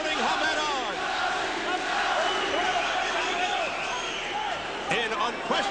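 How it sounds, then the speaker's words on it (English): A boxing arena crowd roars and chants continuously, urging on the fighter Hamed. The dense, loud cheering sits under a commentator's voice throughout. "The crowd exhorting Hamed on."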